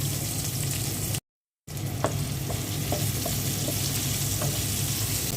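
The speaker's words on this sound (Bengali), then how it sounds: "মাছ ভাজা তেলের মধ্যে পেঁয়াজ দিয়ে দিচ্ছি তরকারি রান্না করার জন্য" Chopped onions sizzle in oil left over from frying fish, a loud continuous close crackle with intermittent spatula stirring clinks; the sound cuts out briefly near the start and then resumes.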